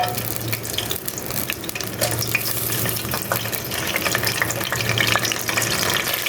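Whole spices (bay leaves, cinnamon sticks, cardamom, cloves and peppercorns) sizzle steadily in hot oil in a pan, with a continuous close crackle and occasional stirring scrapes.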